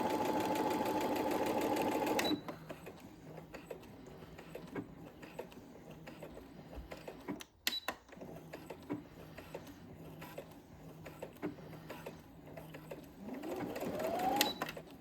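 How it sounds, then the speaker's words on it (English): A sewing machine stitches a beginner zipper pouch, with back stitching at the start and end, running in a fast, close mechanical whir that stops briefly and then continues in shorter bursts under quiet handling noise. "My needle is down, my presser foot is down, and I'm going to continue. Back stitching at the start and at the end."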